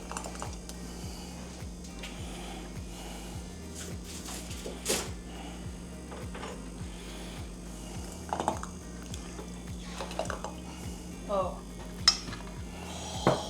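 Homemade barbecue sauce ladled into heated glass canning jars, with faint scattered clinks and taps of utensil against glass over a low steady hum.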